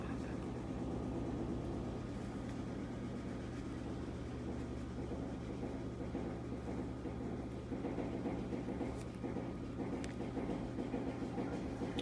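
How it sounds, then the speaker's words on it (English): A steady low mechanical hum and churning rumble of a washing machine running in the background, continuous and unchanging with no talk. "I don't know if you can hear, I got my washer going in the background."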